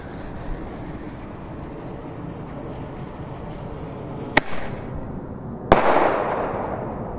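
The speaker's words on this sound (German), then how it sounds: "Wir starten mit dem Flashbang, dann der Max und dann der Flashbang von Nico." Flashbang firework bomb tube exploding outdoors around New Year's Eve, a sharp crack followed a second later by a louder bang with a lingering rumbling echo over a steady background hiss.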